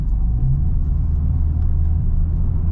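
Subaru WRX VB driving a mountain touge road, heard as a steady low engine drone and road rumble from inside the car, continuous and fairly loud with no talking.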